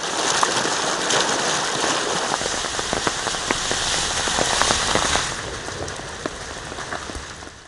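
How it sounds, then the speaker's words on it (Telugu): Heavy monsoon rain drenches the hill town of Shimla, a thick, continuous roar of rain on surfaces with scattered sharp droplet splats, easing slightly toward the end. "ప్రముఖ పర్యాటక ప్రాంతం సిమ్లా వర్షాల జోరుకు తడిసి ముద్దైపోయింది"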